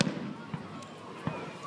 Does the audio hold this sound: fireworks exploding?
yes